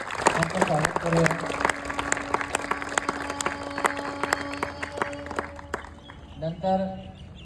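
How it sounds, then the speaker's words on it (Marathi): Applause welcomes an honoree at a gathering, with a crowd clapping in a dense patter that carries on for several seconds, while a voice briefly speaks over it near the start and again at the end. "आपण खूप साऱ्या जोरात टाळ्या वाजवून त्यांचं स्वागत करूया"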